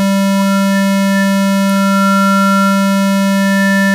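Music passed through a very narrow-bandwidth equalizer in FL Studio, leaving a thin, steady band of sustained tones with a faint tonal sweep and a brief click midway, with no voice present.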